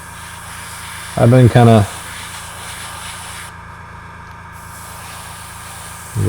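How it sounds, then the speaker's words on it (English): An airbrush compressor runs steadily in the background with a low, even hum and faint hiss, while a person speaks briefly over it partway through. "if you can hear my compressor back there"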